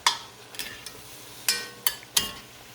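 A pot of chili with meat and soft vegetables cooks with a low, faint sizzle, broken by a few sharp clanks and scrapes of a utensil against the pot.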